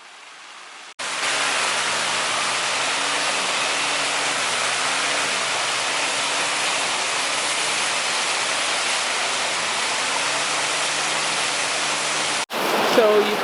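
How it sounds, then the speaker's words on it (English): High, muddy creek swollen with spring melt runoff, a loud steady wash of rushing water close by that fills the whole clip, with a voice talking underneath it. "So you can see the creek coming down through here behind me. Hopefully you can hear me over it."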